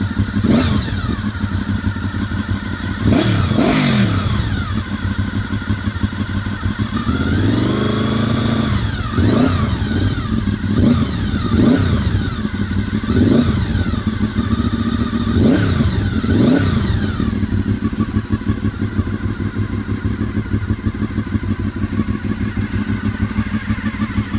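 A 1998 Honda VFR800Fi motorcycle idles close by, then is blipped through a series of sharp revs that rise and fall repeatedly, with a longer rev in the middle, loud and without talking.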